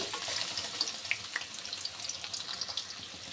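Chopped onions frying in a pan for a beef and jackfruit curry, a steady close sizzle with soft crackles and small pops scattered throughout, no voices.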